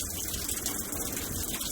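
Water pouring steadily into the drum of an empty Whirlpool washing machine set to the high water level, lid open, a continuous close rushing gush with no talk.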